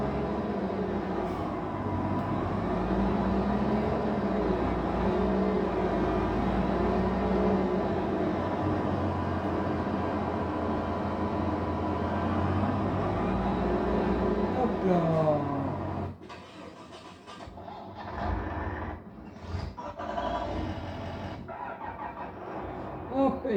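A tractor engine rumbles steadily for most of the clip on a farm during maize silage sowing, then cuts out, leaving scattered clanks and faint noises.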